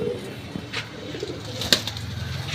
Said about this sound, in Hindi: देखो दोस्तों इस बहुत ही अच्छा उड़ने वाला कबूतर है